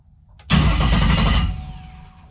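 A starter motor rewired to 16 volts cranks an engine loudly and fast, starting abruptly after a faint click and spinning steadily for about a second before winding down.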